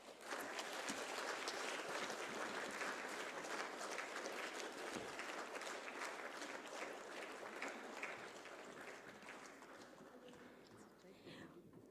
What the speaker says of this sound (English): maybe we celebrate together once again with a huge round of applause.